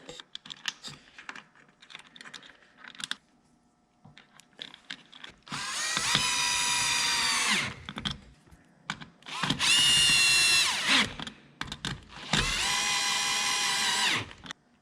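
Three bursts of a high-pitched whining power drill driving a self-tapping screw into a metal boat trailer, each lasting a couple of seconds, separated by quiet handling clicks and rustles.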